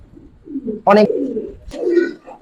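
Pigeons of the Giribaz breed give short, throaty coos up close, mixed in with a person talking nearby.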